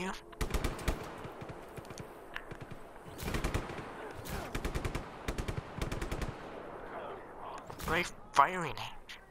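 Bursts of machine-gun fire in Just Cause 3, several rapid rattling volleys separated by short gaps, fairly close, with someone talking over parts of it.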